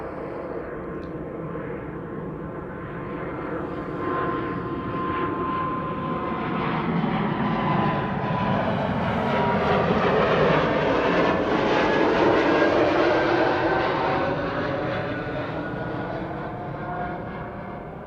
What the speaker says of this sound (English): First, the A220 from Air Baltic to Tallinn.